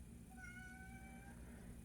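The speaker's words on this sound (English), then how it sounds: "That's my cat." A cat gives a single drawn-out meow, fairly faint over a steady low background hum.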